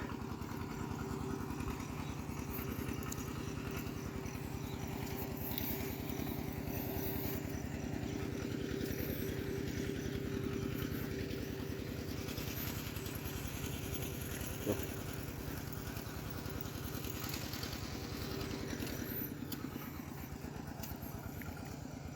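A small engine-driven water pump running steadily outdoors in a rice paddy, a continuous mid-pitched chugging drone with a constant rhythmic throb throughout.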